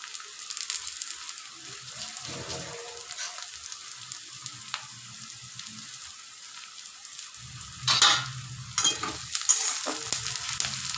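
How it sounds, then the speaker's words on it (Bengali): Onions fry down into beresta for chicken with a soft, bubbling sizzle. Occasional stirring sounds swell into louder bursts of frying toward the end, and no one speaks. "বেরেস্তা ভাজতে যেটুকু সময় লাগবে"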